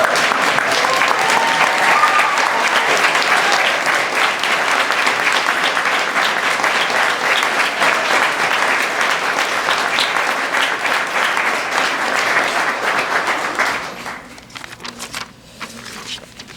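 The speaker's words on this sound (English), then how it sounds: "I believe this calls for a standing round of applause for these 12 great professionals." A standing ovation at a June 2024 police promotion ceremony: loud, dense clapping from a large crowd that holds steady, then thins out and tapers off near the end.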